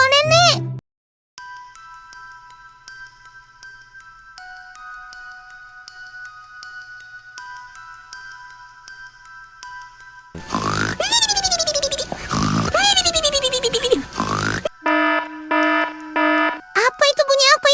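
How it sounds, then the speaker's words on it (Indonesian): A CCTV alarm in the Sakura School Simulator video game rings at night with steady electronic tones that turn into a loud warbling siren with repeating beeps, while voices talk over it. "Alarm CCTV-nya bunyi ya."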